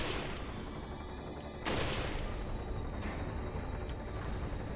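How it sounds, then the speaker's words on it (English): Gunfire in Resident Evil 4 (2005), a sharp shot at the start and a louder burst midway over a dense, noisy game background, with a few fainter reports afterward. "Okay, so I need to shoot them."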